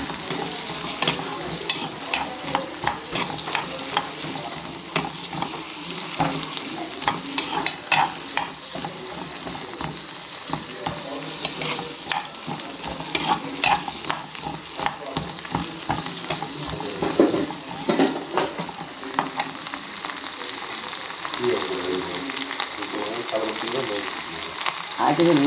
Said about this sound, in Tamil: இதை நம்ம நல்லா வெங்காயம் பூண்டும் வதக்கிட்டு